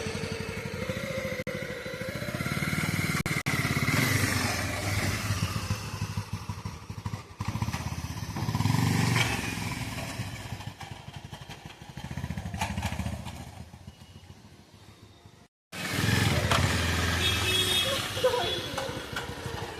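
A motorcycle is ridden with two riders aboard, its engine droning steadily up close with occasional thumps and rises in pitch while people talk over it, broken by one brief cut.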